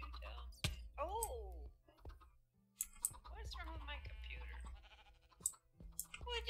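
A goat bleats in a Minecraft modpack game, short wavering calls mixed with keyboard typing and clicking, while people talk throughout.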